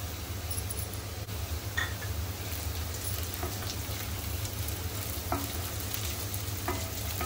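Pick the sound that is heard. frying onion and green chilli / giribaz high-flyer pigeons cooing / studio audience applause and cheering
frying onion and green chilli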